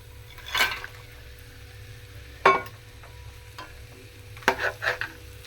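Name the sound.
eggs and vadiyalu being added and stirred into a curry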